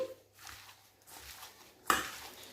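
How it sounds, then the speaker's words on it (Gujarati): Spices being stirred into a spinach bhajiya batter made with baking soda and a tablespoon of oil, giving soft scraping and mixing sounds with a sharp utensil clink against the bowl near the end. "સૌથી પહેલાં આપણે આ બધા જ મસાલાને સરસ મિક્સ કરી લઈશું"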